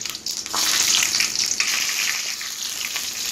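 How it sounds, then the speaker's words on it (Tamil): Dry red chillies sizzling with mustard seeds in hot oil in a pan, a loud, steady, close crackling hiss with a sharper burst as the chillies drop in, and no talking. "எண்ணெய் நல்லா காஞ்சிருச்சு. அதுக்கப்புறம் வரமிளகாய் சேர்த்துருவோம்."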